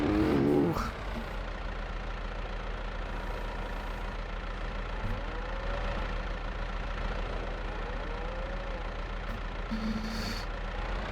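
A tractor engine in Farming Simulator 22 hums and idles steadily at a medium pitch, with a brief thump at the start and faint mechanical creaks over the continuous drone.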